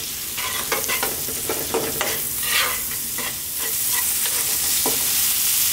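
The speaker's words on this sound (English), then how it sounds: "And then I'm going to cook this for about 2 to 3 minutes, stirring pretty much all the time." Chopped red onion frying and sizzling in a hot pan while being stirred almost constantly, with steady hiss and repeated scraping strokes of the utensil, close and fairly loud, no talking.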